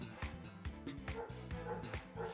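A dog Pokémon in Pokémon Violet gives a quick run of bright, yappy barks and whimpery yips, repeated rapidly and quietly, with the game sounds around it.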